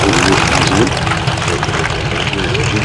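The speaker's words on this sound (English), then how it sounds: "watching these airplanes fly" Propeller-driven warbird fighters, a Messerschmitt Bf 109 and Focke-Wulf Fw 190, roar continuously at a beach airshow, a loud, steady engine drone with a voice talking over it.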